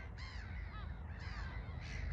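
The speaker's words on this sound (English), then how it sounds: "Looking for worms, so are the crows, I think." Crows caw over a farm field where fertiliser is being spread, three harsh calls spaced roughly half a second to a second apart, moderately distant above a constant low rumble of wind or machinery.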